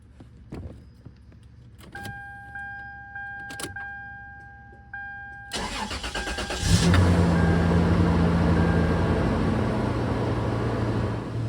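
A third-generation Toyota 4Runner cranks and starts after a brake booster replacement, preceded by faint clicks and key jingles, then settling into a steady, close engine idle that fills the rest.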